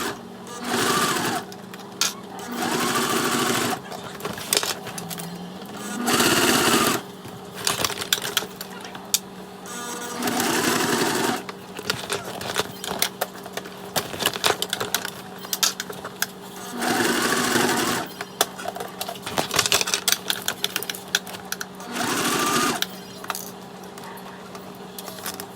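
A sewing machine fitted with a Teflon foot and a leather needle stitches a handmade leather bag, running in repeated close bursts of a second or two separated by brief pauses and small handling noises.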